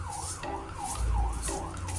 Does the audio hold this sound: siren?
yes